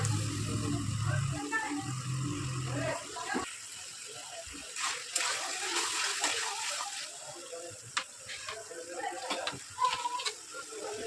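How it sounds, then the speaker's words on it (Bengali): A little water is poured into a pan of frying spice mixture with cumin powder and salt, a gushing pour for the first few seconds giving way to a busy sizzle and scattered stirring, with someone talking. "অল্প একটু জল দিয়ে মশলাটা আমি কষিয়ে নেব"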